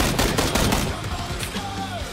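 Rapid bursts of automatic gunfire in the video game PUBG, loud and close, fading into a ringing tail.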